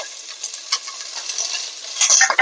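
Onion pieces and curry leaves frying in hot oil give a soft crackling sizzle with a few light stirring clicks, growing louder and sharper toward the end of the short stretch.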